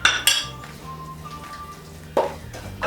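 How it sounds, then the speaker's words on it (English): A spoon clinks against a bowl while mixing pumpkin chapati dough ingredients with salt and oil, a sharp knock at the start and another near the end, close by with quieter scraping between. "Koroga ishikane vizuri."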